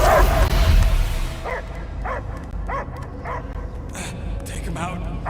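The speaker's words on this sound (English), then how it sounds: "I hear only barking." Dog barking in the video game Guardians of the Galaxy, a series of short yips and barks spaced through the clip, following a louder burst of game noise and partly under background sound.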